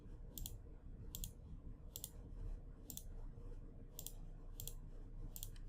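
A computer mouse clicks repeatedly while network settings are configured, seven crisp, close clicks spaced roughly a second apart over a low room hum, with no talking.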